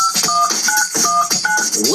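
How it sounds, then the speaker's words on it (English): Telephone keypad dialing a number, a quick run of distinct two-tone beeps in uneven rhythm, loud and close, with faint shuffling underneath. "Listen carefully to the sound the number makes when she dials."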